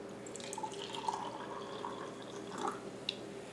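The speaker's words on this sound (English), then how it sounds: "Okay, now I'm going to finish filling it with regular water." Cold tap water runs into a Gatorade bottle with a faint, continuous gurgling trickle and a few brighter drips, quiet and close.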